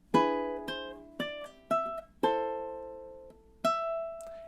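A solo ukulele plucks measure 11 of the Luigi's Mansion main theme in time, with about six separate ringing notes and chords spaced across a few seconds, quiet and close.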